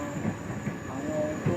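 A passenger train rolls into Ebute Metta railway station in Lagos, a steady rumbling clatter of wheels on rails with a faint high hiss, continuous and moderately near, no voices over it.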